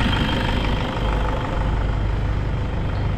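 A Toyota Innova with a 2KD diesel engine, faulty and held to about 1,000 RPM with a check engine light on, runs with a loud, close, low rumbling clatter that stays steady and unbroken throughout, with no voices.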